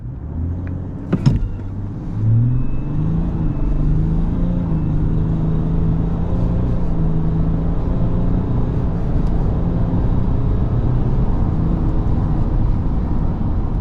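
A VW Amarok V6 TDI pickup with 241 hp pulls away from a standstill, its diesel growl rising through the gears, loud and close from inside the cabin, after a couple of brief clicks at the start.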